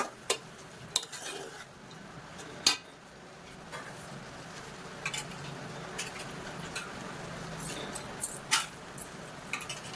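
A spoon scrapes and clinks against a pot while masala for masoor dal is stirred, a few sharp metallic taps scattered over a low kitchen background, fairly faint and without talk.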